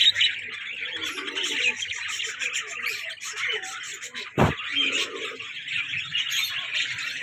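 Cockatiels and lovebirds chatter constantly in a dense flock of bright, overlapping chirps and tweets, with one sharp knock partway through.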